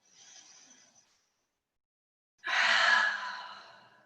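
A person does deep yoga breathing: a soft inhale, a pause of silence, then a long, strong exhale close to the microphone that gradually fades.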